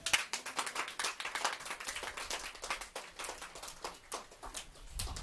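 Churchgoers applaud Jesus Christ during a sermon with continuous hand clapping from a congregation, fairly faint and a little distant, and no one speaks over it.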